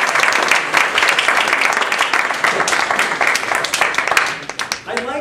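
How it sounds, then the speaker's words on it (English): Audience applause at a Toastmasters humorous speech contest, loud dense clapping from a large crowd that holds steady and then begins to thin out near the end. "So please give yourselves a round of applause."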